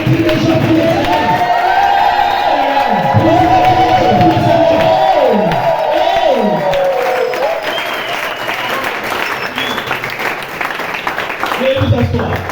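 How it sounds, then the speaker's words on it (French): A church congregation at a special Thursday service acclaims the Lord with steady applause and cheering, while a singing or chanting voice rises and falls above the crowd throughout. "Acclamons pour le Seigneur"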